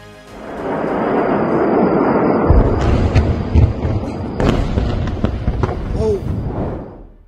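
A missile explosion unleashes a deep, rolling roar that swells and lingers for several seconds, crackling and thumping as it fades.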